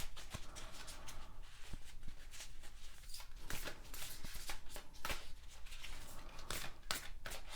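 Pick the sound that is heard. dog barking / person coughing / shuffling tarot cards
shuffling tarot cards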